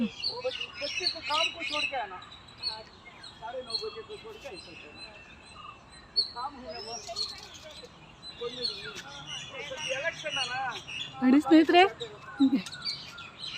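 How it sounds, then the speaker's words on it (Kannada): Birds chirp and tweet in green natural surroundings near a gate, a busy scatter of close and distant calls running throughout while someone talks over them. "ಪಕ್ಷಿಗಳ ಶಬ್ದ ಎಷ್ಟು"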